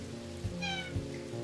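A cat gives a single short meow in the video game Strange Horticulture, close and clear over a steady rain-like background.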